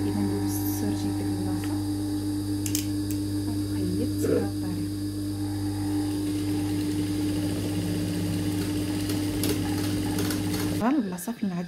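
Sewing machine stitching a hidden pocket: a steady mechanical hum and whir runs throughout, close and even, then stops abruptly near the end, with faint background voices.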